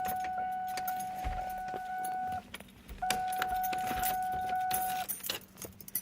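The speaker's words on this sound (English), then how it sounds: "I better put the Mustang keys in there. I got the keys to my Ford Explorer." Car keys for a Ford Mustang and a Ford Explorer jangle and clink up close, with a steady electronic chime sounding in two long stretches in the background.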